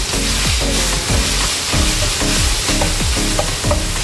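Minced pork fries in a pan as the fat renders, a loud constant sizzle broken by repeated scraping strokes of a spatula in an uneven rhythm, close up.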